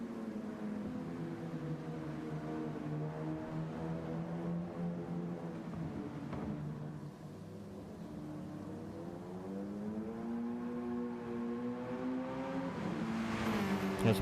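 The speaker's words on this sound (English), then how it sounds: "Kind of listening to the car right now." A GTRC GR4 race car drives at the Red Bull Ring, its engine droning through rising and falling revs with gear changes, building to harder acceleration at the end, loud and steady.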